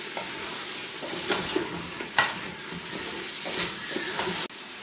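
Vegetables for couscous sizzle in a pan over low heat as they are stirred, giving a steady crackling hiss broken by scraping strokes at irregular intervals before the sound cuts off abruptly.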